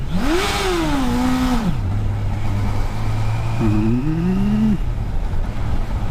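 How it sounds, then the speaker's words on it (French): A car engine, recorded up close, revs hard twice: first a loud rising surge, then a steady idle, then a shorter second climb before it settles back, with strong low rumble throughout. "On va essayer de faire gueuler un peu le moteur."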